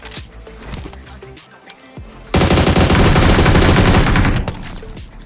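Gunfire in the mobile battle royale game BGMI (PUBG Mobile): scattered single shots and short bursts at first, then a dense, loud sustained automatic volley lasting about two seconds before tapering off.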